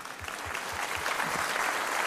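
Applause from a comedy show audience at Montreux, a dense even clatter of clapping hands, with a few low regular thumps at the start.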